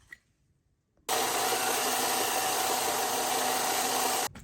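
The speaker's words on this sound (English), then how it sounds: "We're going to get the belt sander out and sand these down till they're the same size and smooth." A belt sander runs on wooden wheels for homemade custom knobs, starting abruptly after a quiet moment and droning steadily with a harsh, even whir for about three seconds before stopping.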